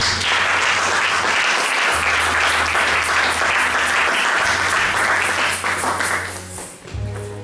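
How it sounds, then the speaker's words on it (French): A church congregation applauds in praise during a French-language sermon, a dense, steady roar of clapping that runs loud and continuous before thinning slightly near the end, with a low musical drone underneath. "Acclame Jésus."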